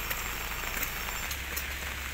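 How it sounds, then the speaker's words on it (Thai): Steady heavy rain from Tropical Storm Noru falls across an outdoor area, a dense continuous hiss with scattered drops spattering nearby. "ฝนตกทั้งวันพายุโนรู"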